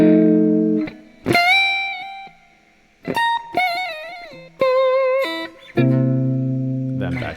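A guitar in open E tuning plays a lick over the 5 chord: loud, close plucked notes and bends in several phrases, separated by short pauses, ending on a sustained chord.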